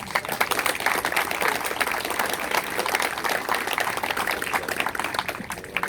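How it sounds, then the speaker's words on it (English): An audience at an outdoor air-pollution protest applauds a speaker, a steady wash of many hands clapping at moderate loudness throughout, with no voices standing out. "So if you could please give her a round of applause"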